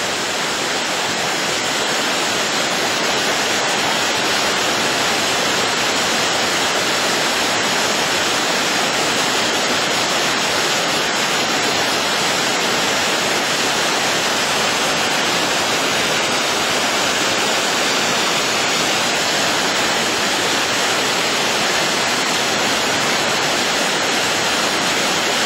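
Buttermilk Falls in icy winter conditions, water rushing over the falls: a loud, continuous, broadband roar with no breaks and no voices.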